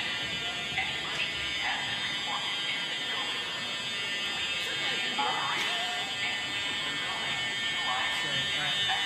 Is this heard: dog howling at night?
no